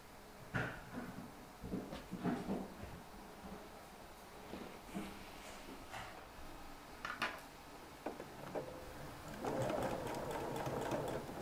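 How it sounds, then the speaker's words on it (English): A sewing machine stitches a shirt collar stand in intermittent bursts of motor whir separated by pauses, with a longer, louder run near the end, close by and with no talking. "Sew your collar stand with 5/8 seam allowance."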